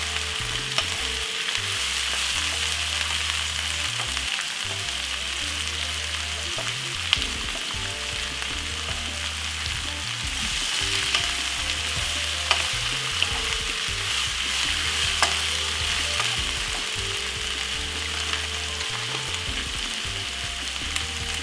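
Jamaican bully beef and cabbage sizzles steadily in a pot, a constant close frying hiss broken by occasional scrapes and knocks of a spoon stirring through it, with no talking.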